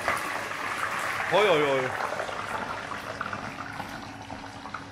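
Potato fries pre-frying in hot fat at 140 degrees, a steady, close bubbling sizzle and hiss running throughout, with a voice calling out briefly over it.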